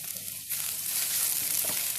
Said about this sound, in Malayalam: ഇനി ഒന്ന് മിക്സാക്കി കൊടുക്കുക